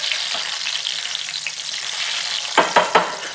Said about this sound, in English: At this point, when you're pan frying,